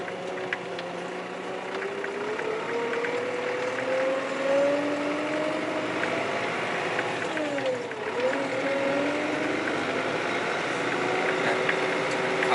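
A steady TD100D tractor engine drones and rumbles throughout while ploughing a field, its pitch rising and falling as the vehicle works, with faint rattles over the top.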